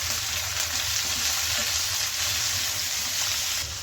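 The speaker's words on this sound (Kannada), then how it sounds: "ಈಗ ನೋಡಿ, ಇದೆಲ್ಲ ಚೆನ್ನಾಗಿ ಫ್ರೈ ಆಗಿದೆ." Mint and coriander leaves fry in a pan for chutney, giving a steady, close sizzle with faint stirring underneath and no talk.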